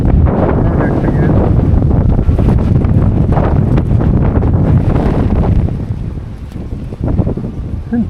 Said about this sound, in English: It's been pretty windy all day.